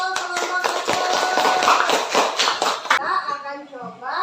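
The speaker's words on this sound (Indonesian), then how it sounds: "Tepuk tangan dulu ini untuk kelompok 1" A classroom of students claps for a group, a quick rhythmic run of close, loud hand claps for about three seconds, followed by voices talking and children chattering as the clapping stops.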